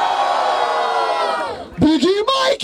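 Rap battle audience at the 142nd Batalha da Aldeia erupting in loud cheers and shouts after a host's amplified voice calls out over them.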